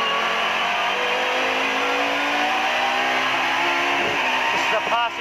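A touring car at Amaroo Park in the 1996 Australian Super Touring Championship roars steadily at close range, then the engine note drops and blips as it downshifts to third gear, with a driver's voice over it.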